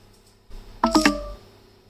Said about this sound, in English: phone is about to die because I heard the sound